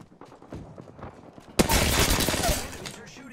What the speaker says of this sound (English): Enemies are shooting at me. I'm spotted, taking fire.